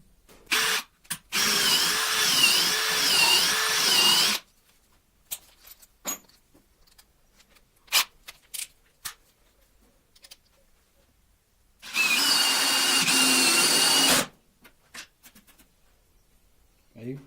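A DeWalt drill drives a long screw, almost 11 centimetres, through a piece of wood. It runs in two loud whirring bursts, one of about three seconds and a later shorter one, with quiet clicks and handling noises in the gap between.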